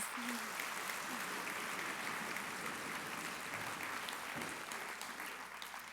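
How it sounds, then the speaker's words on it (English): A round of applause at a PWC Discover Program gathering, given by drumming. It is a continuous, even roar of clapping-like noise that lasts about six seconds and tapers slightly at the end, heard alone without speech. "I like that, using the drums for applause."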